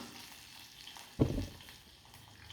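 Curry leaves hit hot oil with popped mustard seeds for a brinjal thokku: after a quiet, faint background sizzle, a sudden loud crackling burst flares up and fades over a fraction of a second, with no voices.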